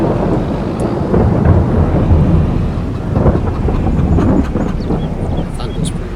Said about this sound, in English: Thunder's pretty loud.